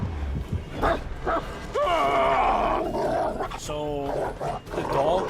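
A dog in a video game barks and yelps in short bursts, with whimpering, over game noise while someone talks.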